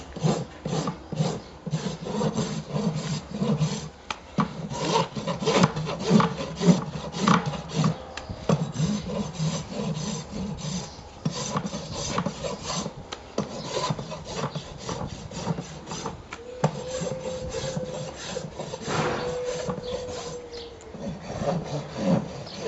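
A rasp files a horse's hoof in long, rhythmic scraping strokes, close and steady, with brief pauses between bursts and no speech.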